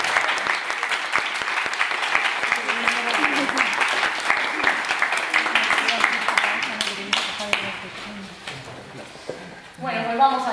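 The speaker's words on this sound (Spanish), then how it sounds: "Con un aplauso a esta chica," An audience at a Spanish-language poetry book presentation breaks into sustained applause that stays dense and loud for about seven seconds, then thins out and tapers, with some voices mixed in near the end.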